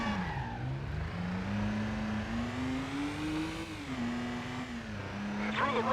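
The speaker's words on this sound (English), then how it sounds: "Handbrake turn." Car engine roars in Stuntman through a handbrake turn: a loud, continuous engine note that sags, then climbs steadily in pitch and eases back, with tire and road noise throughout and no voices.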